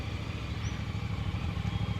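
A motorcycle engine rumbles steadily while riding on a gravel road in the Ozarks, with a continuous low drone and faint crunching clatter beneath it.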